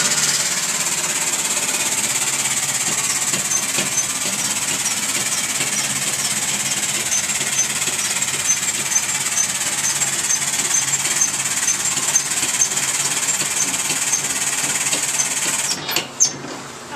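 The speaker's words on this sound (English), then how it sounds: "so that's a scooter engine out of the scooter" A small scooter engine, removed from the scooter, runs steadily with a buzzing, rattling idle, a few metallic clunks near the end.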